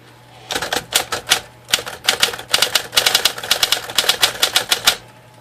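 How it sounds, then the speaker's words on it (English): Sears Smith Corona electric typewriter typing: close, loud runs of sharp mechanical key strikes in quick bursts with brief pauses between, over a faint steady motor hum. "Types like a regular typewriter, of course"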